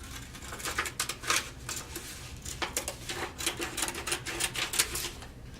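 Crinkle scissors snip through paper in quick, irregular crisp cuts, a close series of sharp clicks and rustles repeating throughout with no talking.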